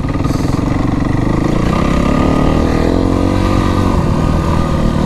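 A Kawasaki KX motocross bike with freshly adjusted valves revs loudly and close by, its engine note climbing and holding steady with rising harmonic pitch across the whole stretch.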